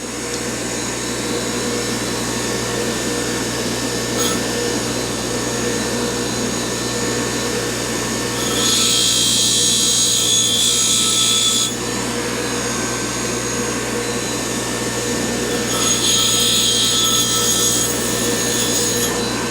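Grinding down the big end of a motorcycle control cable for a Yamaha YL2C Trailmaster 100cc: a loud, continuous abrasive whine and rasp, close up, with two stretches where it rises harsher and brighter, no talking.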